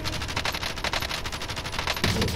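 Rapid automatic gunfire in Call of Duty: Modern Warfare, a dense continuous burst of shots, loud and close, ending in a heavier blast.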